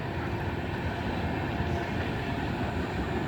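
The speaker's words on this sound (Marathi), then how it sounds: "आणि इथे ट्रेन पण आली आहे बघा." A train rumbles past at sunset, a steady loud roar of wheels and carriages that holds at the same level throughout with no break, close by and with no talking over it.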